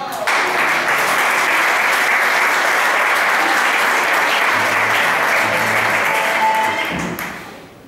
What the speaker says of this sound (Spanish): ahora viene un fuerte aplauso para los más jovencicos